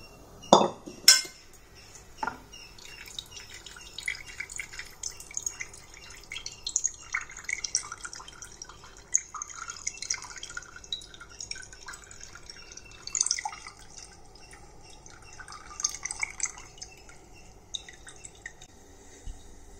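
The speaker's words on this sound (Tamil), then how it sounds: "இதை நம்ம அப்படியே வடிகட்டிக்கலாங்க." Liquid strained through a kitchen strainer, with sharp clinks of metal at the start followed by a long stretch of soft dripping, trickling and light rattling, fairly quiet and close.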